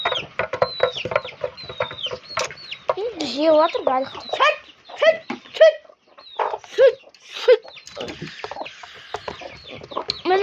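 Chickens cluck and squawk up close while pecking at feed mixed with water in snow, with bursts of overlapping calls and a person briefly speaking over them.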